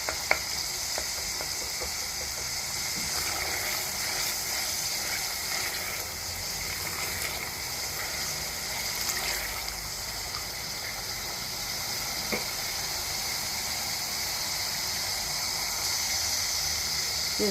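Boiled green beans and minced meat frying in a pan, a continuous even sizzle with faint crackles and occasional stirring scrapes, steady and close throughout with no voices.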